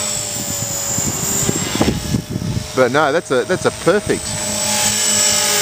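Steady whine of a small model helicopter's rotor and motor with a governor, flying against grey clouds, with someone talking loudly close by over it.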